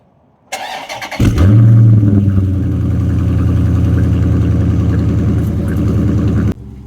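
A 2021 Dodge Charger SRT 392 Scatpack Wide Body cranks and fires up with a loud roar, then settles into a steady, deep, rumbling idle close by.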